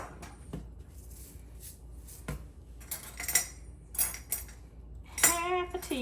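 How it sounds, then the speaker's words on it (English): Metal measuring spoons clink and rattle as they are picked up in a home kitchen while baking muffins. Several sharp, close chinks come in irregular bursts, getting busier toward the end, with no talking. "I'm gonna have to get my measuring spoons over here."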